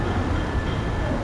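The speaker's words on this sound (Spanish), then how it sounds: "por aquí pasa el tranvía" A tram passes along a steep street in Porto, a steady loud rumble with rolling wheel noise filling the short span, close by and continuous.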